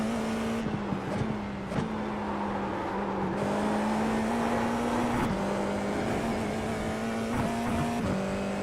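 A race car lapping the Ledenon circuit in iRacing, a steady loud engine drone with slight pitch shifts and occasional clicks of gear changes, heard from the cockpit without talk.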